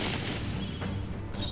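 Raging Fire, an attack skill in Metaphor: ReFantazio, lands as a short booming blast of flame with a heavy low rumble and a bright burst near the end, all over in under two seconds.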